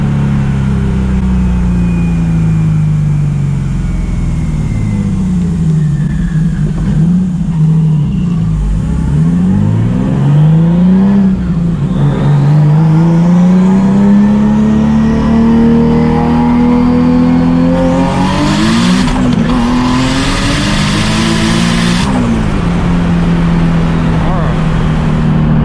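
Turbocharged 900 hp Nissan 370Z accelerating hard, its engine note sweeping up and down through several pulls with a loud burst of turbo whoosh near the end, heard from inside the car while people talk over it.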